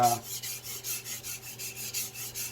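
A Victorinox 8-inch chef knife is stroked back and forth on a Chosera whetstone, about ten even, rhythmic rasping scrapes in quick succession, close and fairly quiet, with no talking.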